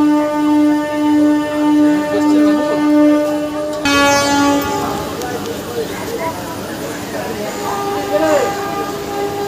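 A local MEMU commuter train runs between Howrah and Purulia with a steady rolling rumble and a long horn tone, then clattering wheel noise as it moves on, loud and close.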